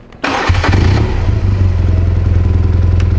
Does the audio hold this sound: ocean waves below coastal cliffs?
no